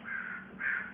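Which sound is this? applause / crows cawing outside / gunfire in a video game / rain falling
crows cawing outside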